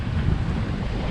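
Strong wind of about 25 km/h roars over a reefed sailboat at sea, a loud, steady rush buffeting the microphone, with water noise blended in and no voices.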